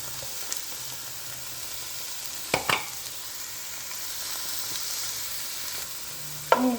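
Chicken breasts in a pan with onion and garlic give a soft, steady sizzle, with a few sharp spatula scrapes and clinks against the pan.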